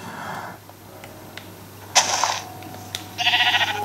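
Sheep in the video game Minecraft bleat in short, separate bursts, with a louder wavering bleat near the end over a low steady hum.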